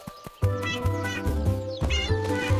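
A kitten in a garden meows several times in quick succession: short, clear, close cries with a brief pause between bursts and nothing else behind them.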